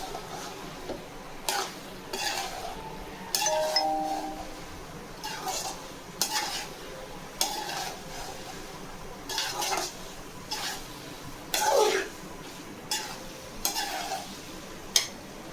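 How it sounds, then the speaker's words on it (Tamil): Pasta stirred into masala in a cooking pan: repeated scraping strokes of a spoon against the pan come at a steady rhythm over a soft sizzle, close and without talk. "இதில் பாஸ்தாவை எடுத்து போட்டு அப்படியே மிக்ஸ் பண்ணலாம். அதை நல்லா கிண்டலாம்."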